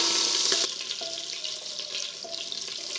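Oil and butter sizzle in a casserole pan, a steady bright hiss that briefly swells and then holds at a lower level, with no talk over it.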